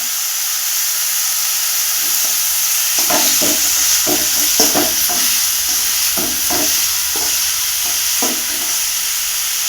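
Crushed shallots and garlic sautéing with salt in a pan give a steady close sizzle and hiss, with a run of scraping stirring strokes through the middle of the clip; no voices.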